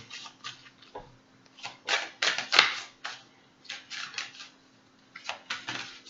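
Soft, irregular riffling and slapping of tarot cards being shuffled, in uneven bursts close up, with a faint steady hum underneath.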